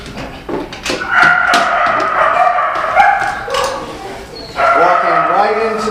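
Several dogs barking and yelping excitedly, overlapping in bursts, with a person talking among them.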